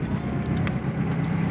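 A car engine idles at full operating temperature after about fifteen minutes of running, a steady low rumble close by with no one speaking.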